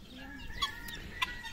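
Roosters and hens cluck and call inside a farmyard pen, two short sharp calls standing out over a quiet, steady background.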